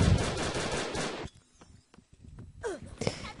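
Golden AK gunfire in the Brick-Force video game: a loud, rapid burst of automatic shots at the start, followed by a few fainter scattered sounds.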